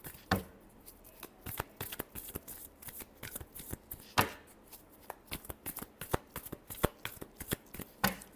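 A deck of tarot cards shuffled repeatedly near the listener, dense bursts of crisp flicking and slapping in an uneven rhythm with short pauses, with no talking.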